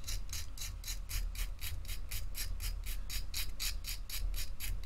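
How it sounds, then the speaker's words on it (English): Paint pigment is scraped into a dust in a rapid, even series of about twenty rasping strokes, close and fairly quiet, with no talk. "I do it this way, where I scrape it off into a dust because it speeds up the grinding process."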